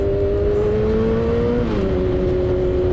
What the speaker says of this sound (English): I'm going to give it a little bit of gas, blip the throttle, and then I'm going to let the clutch out